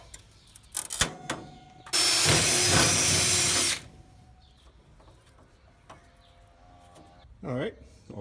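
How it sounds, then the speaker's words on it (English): A power drill whirs loudly in one sustained burst of about two seconds, drilling holes while installing gas grill burners, framed by quiet clinks and handling noises, with a brief whine near the end. "now what I'll do is I'll just drill holes down through them"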